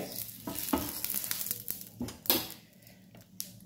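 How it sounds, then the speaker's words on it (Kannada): Rava dosa batter, made with very little oil, sizzling and crackling on a hot pan, a steady close frying hiss with a few sharper pops and spatters. "ನಾನು ಇನ್ನೊಂದು ದೋಸೆ ಹೊಯ್ಯೋ ತೋರಿಸ್ತೇನೆ."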